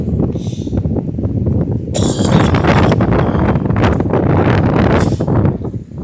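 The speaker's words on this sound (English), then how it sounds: "The wind's coming out of the north, so it's a bit on the windy side out here." Strong north wind buffets the microphone outdoors in loud, continuous rumbling gusts, with brief rustling bursts as it picks up.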